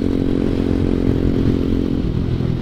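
A ZS 190cc Honda Grom clone motorcycle rides along with a steady, loud engine drone and some rattling clatter, holding an even throttle without pause throughout.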